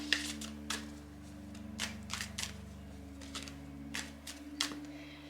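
Tarot cards are shuffled by hand in a series of quick, crisp riffles and slaps, repeating in short bursts over a low steady hum, with no talking.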